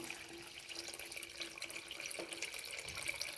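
Water runs in a faint, continuous trickling stream as it is poured into a pot for Maula fish curry (meen kulambu), soft and steady throughout.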